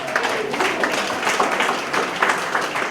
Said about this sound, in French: Les gens peuvent les applaudir,